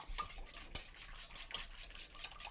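Pancake batter whisked in a bowl, with quick rhythmic strokes of the whisk that scrape and tick against the sides in short repeated bursts, close and fairly quiet, with no voices.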